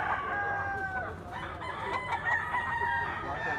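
A yellow-legged bull stag rooster crows close by in a long warbling call, ending with a second rising crow, with faint background noise and no speech.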